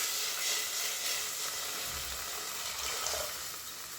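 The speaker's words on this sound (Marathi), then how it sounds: "हे बघा आता याच भांड्यात आपण दूध ॲड करणार" Milk is poured into a pot of dry fruits already fried in ghee for makhana kheer, giving a close, soft sizzling hiss with liquid splashing that tapers off toward the end.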